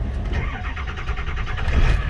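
A 2000 or 2003 bus fitted with a 2018 front end starts up after the key is turned, then settles into a steady, close engine rumble with a pulsing throb that swells slightly toward the end.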